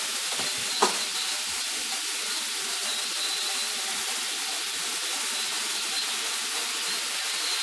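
Ground meat fries in a hot pan, a loud, continuous sizzle and hiss, with a single sharp scrape of a spatula near the start as the meat is broken up.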